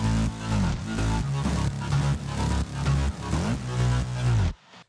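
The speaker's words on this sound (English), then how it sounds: "Next up, we have a reese bass and a sub bass." A deep, gritty layered reese bass synth plays a rhythmic pattern of sustained notes with a heavy sub-bass underneath, loud and upfront.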